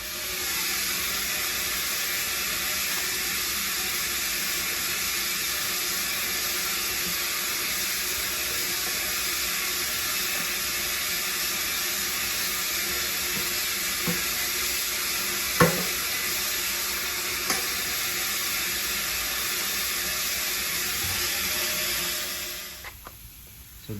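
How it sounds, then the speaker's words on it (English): An air blower pushes a steady, loud rush of air into a Honda CBR900RR Fireblade gas tank during stud welding, broadband hiss running continuously with a few faint clicks before cutting off at the end. "That's just an air blower. I throw it in the tank, throw some air in there while I'm welding those studs on."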